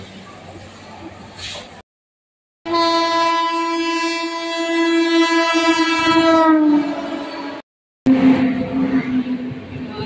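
A superfast express passenger train at a railway station, its horn blaring long and loud near the middle while cars rumble and clatter past, with station noise around and a brief gap in sound.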